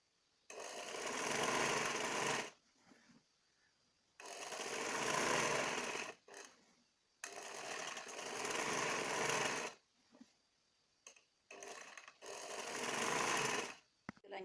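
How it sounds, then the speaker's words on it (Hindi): A sewing machine runs a hem on a lehenga in several long, loud bursts of steady whirring, each separated by a short quiet pause, heard up close with no talking. "इसी तरह सारे नीचे वाले हिस्से को मोड़ते हुए सिलाई लगाएं"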